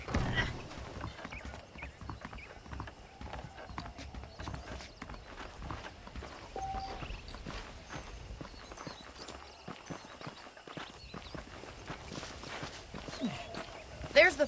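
Horse hooves clop in an uneven, steady rhythm in the video game Red Dead Redemption, close by, with scattered thumps and clatter and voices talking over the steps.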